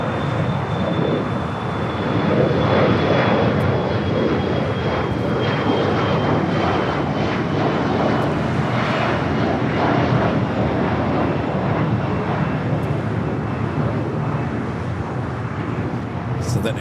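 A jet airliner roars on the runway at Los Angeles International Airport, a loud sustained engine rumble with a faint high whine filling the air, while people talk over it.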